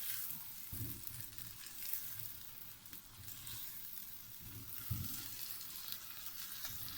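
Scrambled eggs sizzle in a pan of masala as they are mixed in with a light hand, a steady, soft frying hiss broken by a couple of dull stirring thumps.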